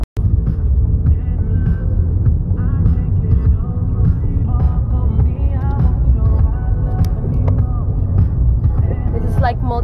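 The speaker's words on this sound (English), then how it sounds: "So I'm actually driving now" Car interior while driving on a road, steady low engine and road rumble throughout, with someone talking over it.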